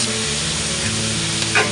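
Cumin, spices and tomatoes hitting hot oil in a pan, giving a loud, dense, continuous sizzle with no pauses and no voices.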